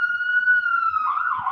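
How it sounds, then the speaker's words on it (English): A siren from an emergency vehicle near a hospital, one long, steady, high wail that starts to waver near the end, clear and fairly close, with no talk over it. "Who's got the sirens?"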